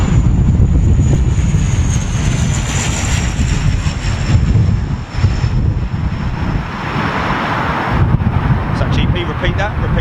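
An airliner touching down in a gusty crosswind at London Heathrow during a storm, loud jet engine roar mixed with buffeting wind noise on the microphone, with a voice talking over it.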